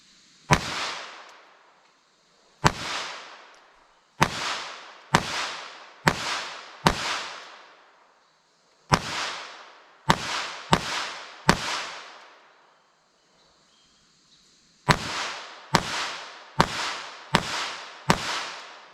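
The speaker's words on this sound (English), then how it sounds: "Ain't used to shooting a 22. It's very spongy and low recoil." Gunshots from a Taurus TX22 .22 LR pistol fired outdoors at about 7 yards, sharp close cracks in uneven groups: pairs and quick strings separated by pauses, each shot ringing out briefly.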